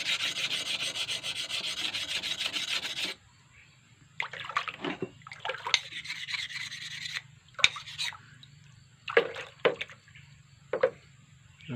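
A rubber-tapping knife scrapes steadily on a sharpening stone, first in a long continuous rasp, then in shorter separate strokes with pauses between.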